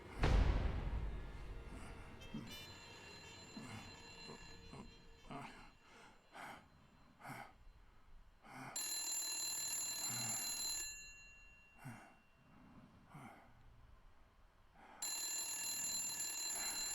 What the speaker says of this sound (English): Answers the goddamn phone.